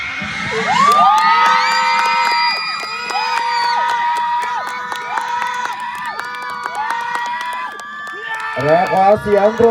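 A school cheer stand crowd at a pink-team cheer event roars with sustained cheering and high shouting, children's voices whooping throughout and rising into a fresh burst of shouts at the end.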